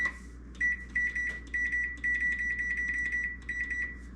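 A kitchen timer set while making Parmesan cheese from skim milk beeps in a rapid electronic pattern, bursts of shrill repeated bleeps separated by short pauses, close and clear with no talk.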